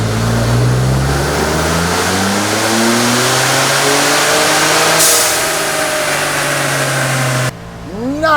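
A stock Ford Bronco 2.7L engine revs steadily upward under load on a dyno, a loud, continuous rising drone that builds for several seconds before cutting off abruptly near the end.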